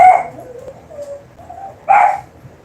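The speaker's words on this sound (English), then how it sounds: "Heard something and now it's barking." A dog barks twice, with a short pause between the two sharp yelps, fairly close and distinct against a quiet room.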